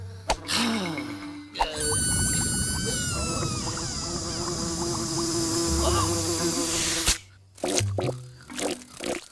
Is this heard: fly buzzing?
yes